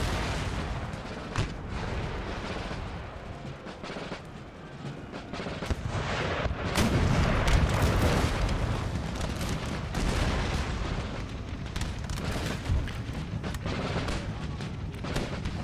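Dense, continuous video game battle din with repeated heavy cannon booms and crackling gunfire blending into a loud rumbling wash, no clear voices on top.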